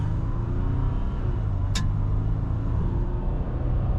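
A 2021 Jeep Gladiator Rubicon EcoDiesel in two-wheel drive, traction control on, accelerates at full throttle, its turbo diesel a loud, steady, deep rumble heard from inside that holds throughout.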